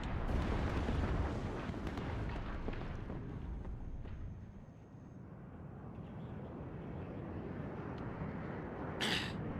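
Heavy bombing strike in the real-time strategy game Warno over an urban front, a dense rumbling roar of overlapping explosions that swells at the start, dips midway and ends with one bright burst.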